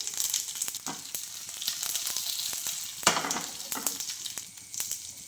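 Steady crackling sizzle of dried red chillies and curry leaves frying in hot oil, with sharp pops and spatters scattered throughout, close and fairly loud.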